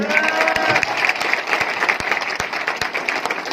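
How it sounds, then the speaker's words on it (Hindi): A crowd at an RCM celebration event applauds steadily throughout, dense clapping with a few sharper claps standing out, loud and close. "एक बार जोरदार ताली"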